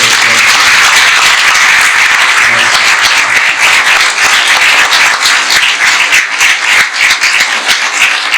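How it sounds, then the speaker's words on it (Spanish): An audience at a book presentation bursts into loud, dense applause, many hands clapping close and steady for the whole stretch with slight swells and dips. "para quienes pido un fuerte aplauso"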